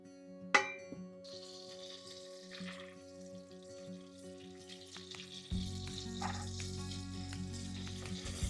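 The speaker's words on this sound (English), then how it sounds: "So melt about 4 tablespoons of butter." Butter melting in a pot for a Norwegian soup, a soft, faint sizzle with a sharp clink at the start and a louder low hum joining later; no talk.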